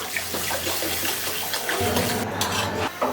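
Water pours steadily into a cooking pan holding spiced tomato-turmeric fish curry base, a continuous close splashing hiss with light clinks of the pan near the end.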